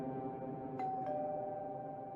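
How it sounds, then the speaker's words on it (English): A video game doorbell pressed at an old house, two soft chime tones in quick succession over a low, steady ambient background, faint and distant-sounding. "Pressed the doorbell."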